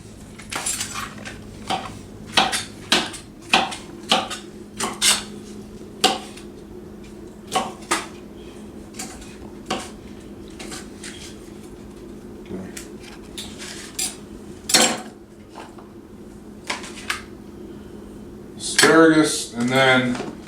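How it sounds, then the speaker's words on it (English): Knife chopping asparagus on a board, a steady series of sharp, close taps spaced irregularly, with a clattering handling sound near the end and someone talking at times. "We're gonna go with 6 ounces of asparagus. And I'm gonna chop this up."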